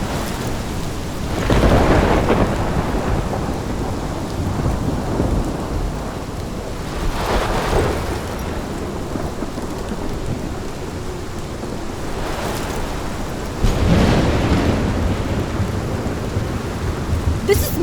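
Rolling thunder over steady rain inside the video game Life Is Strange, with several loud deep rumbles swelling every few seconds against a constant hiss of rainfall, no voices.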